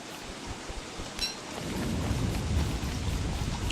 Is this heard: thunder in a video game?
yes